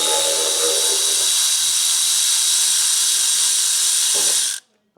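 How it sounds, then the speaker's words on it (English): A powered ratchet undoes upper timing cover bolts on a Land Rover Evoque 2.2 diesel engine, giving a loud continuous high-pitched whir that runs for about four and a half seconds before stopping abruptly. "this ratchet's been doing me head in lately"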